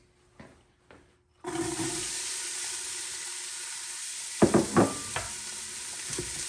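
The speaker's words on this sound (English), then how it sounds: "we're going to throw in a couple of tablespoons of olive oil and our chili and onion mix" Chili and onion mix sizzling in hot olive oil inside an Instant Pot, a steady broadband hiss that starts abruptly after a few faint knocks, with brief louder clatters of stirring near the end.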